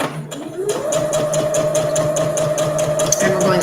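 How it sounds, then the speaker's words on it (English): A sewing machine stitches and backstitches a reusable fabric gift bag, giving a steady, close mechanical whir with a rapid needle rhythm that runs unbroken through the clip. "start again and backstitch again at the other side of the opening"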